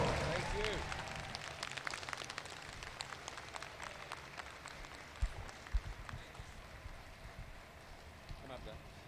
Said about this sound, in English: please give a massive round of applause for two fantastic people, Jasika Nicole and John Noble